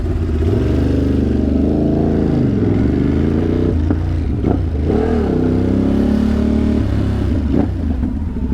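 A motorcycle idling on a New York City street, its engine running low on gas, with a loud close rumbling idle that wavers and stumbles unevenly for several seconds, no talking.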